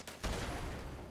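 Crossbow bolts fired in the video game Fallout 76, a loud sharp impact followed by a sustained noisy burst lasting about a second, with no talk.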